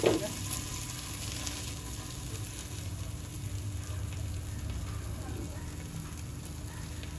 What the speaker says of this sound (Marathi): बटर घालून मी पाव गरम करून घेतले.